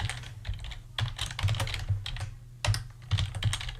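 Quick bursts of keystrokes clatter on a computer keyboard up close, irregular clusters of clicks with short pauses between them.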